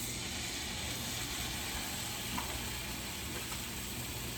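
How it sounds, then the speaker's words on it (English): Chicken searing in a non-stick pan at moderate heat gives a soft, steady sizzle and crackle, faint and continuous with no talk. "You're gonna hear that sizzle a little bit."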